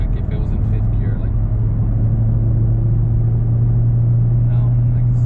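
A sixth-generation Camaro burning E85 cruises in sixth gear with a deep, steady low rumble heard from inside the cabin, while a person talks over the engine.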